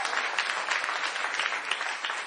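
An audience at a political speech breaks into dense, sustained applause, a steady wash of many hands clapping throughout, with no voices heard.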